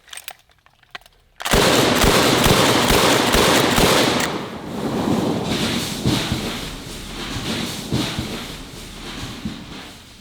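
Shotgun slamfire from a trench gun, a burst of rapid, loud shots fired close up, blasts running together for a few seconds before thinning into scattered reports and outdoor noise.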